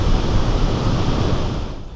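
Horseshoe Falls at Niagara Falls roars as a steady, dense, broadband rush of falling water, loud and continuous, with a deep low rumble and no voices.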